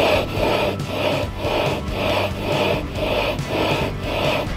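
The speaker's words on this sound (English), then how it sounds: "We need to lap our flywheel onto our crank using valve grinding compound." A flywheel is spun back and forth onto a small-engine crankshaft with valve grinding compound, giving a steady rhythmic gritty rasping, about two strokes per second, close and moderately loud.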